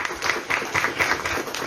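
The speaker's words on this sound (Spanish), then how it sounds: "Fuerte el aplauso también para él." A crowd at a public talk applauds steadily, a dense wash of many hands clapping at moderate volume for the whole short stretch.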